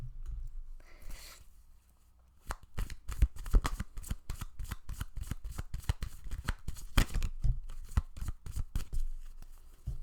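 A deck of cards is shuffled for a card reading: a long run of rapid, crisp riffling flutters close to the mic, fairly loud and continuous with no voice.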